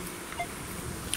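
A metal detector sweeping an old road gives a single short, faint beep over low outdoor background noise.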